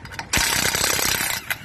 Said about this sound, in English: Got some deep well sockets and an impact gun that should be able to get them off.